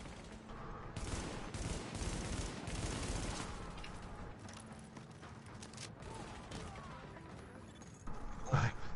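Gunfire in The Division video game, quiet, muffled bursts of shots and impacts blending into a continuous rumble of combat, with a louder clattering hit near the end.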